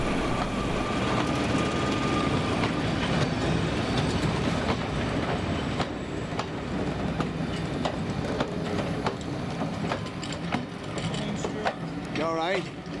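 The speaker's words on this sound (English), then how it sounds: "Here in August 2016, our Class 14 is seen bringing a rare visitor northwards" A Class 14 diesel locomotive hauls the Bury MPD diesel crane northwards on a heritage line, giving a steady loud rumble with rhythmic clicks of wheels over rail joints and a brief squeal near the end.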